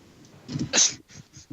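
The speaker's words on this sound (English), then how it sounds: "I think someone sneezed." A single person sneezes once, a short sharp burst that is close and moderately loud with breathy sounds around it.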